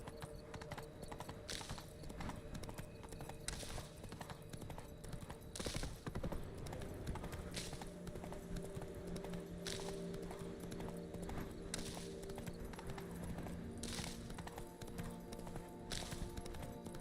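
Roach, the horse in The Witcher 3, gallops with steady, rapid hoofbeats and a rhythmic clip-clop over dense game ambience. A faint whinny may sound at one point.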